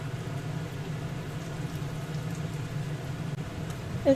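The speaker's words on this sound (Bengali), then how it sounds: "এখন উল্টে পাল্টে একটু ভেজে নেব।" Papaya koftas frying in oil, a soft, even bubbling sizzle that continues steadily at low volume without talk.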